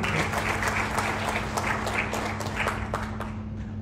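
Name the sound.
crowd applause for Tripti Singh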